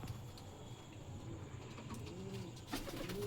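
Domestic pigeons kept at home coo faintly in soft, rolling calls over a quiet background hiss, with a slightly louder coo at the end.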